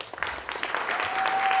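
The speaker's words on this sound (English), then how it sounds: "another round of applause" Audience applause at a graduate closing ceremony: a steady, fairly even wash of clapping from a crowd that holds throughout and swells slightly toward the end, with no voices standing out.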